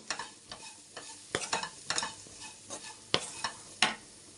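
Chili powder masala frying in a pan for a bitter gourd dish, with steady soft sizzling broken by sharp scraping stirs at irregular intervals, close and alone with no talk.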